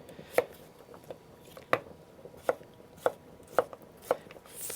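A knife slices radishes into big slices on a board with sharp, close chops at an irregular pace, seven cuts in under five seconds, over faint background hiss.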